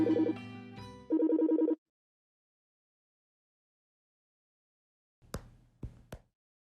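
A telephone rings in two close, bright bursts at the start, then falls silent before a few brief clicks and taps follow near the end.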